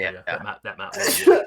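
A single sharp sneeze bursts out at the end, close and loud, right after a person speaks a short phrase.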